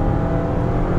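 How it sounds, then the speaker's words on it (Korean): A 2019 Jeep Compass Limited with a 2.4L four-cylinder gasoline engine revs hard on kickdown, a steady loud drone with no gaps, heard from inside the car. "지금처럼 킥다운 같은 걸 해보면"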